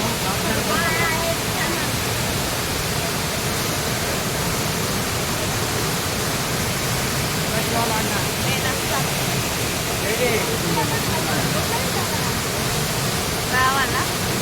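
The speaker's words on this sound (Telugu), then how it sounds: "పోదాం మళ్ళీ వాటర్ ఫాల్కి." Kempty waterfall in Mussoorie gives a steady, loud, broadband rush of falling water that runs unbroken throughout, with family voices talking faintly over it.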